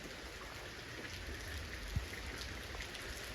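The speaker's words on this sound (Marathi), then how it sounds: "किती पाऊस चालू आहे." Heavy rain pours steadily in a village setting, a dense, even hiss of falling drops that continues without a break throughout.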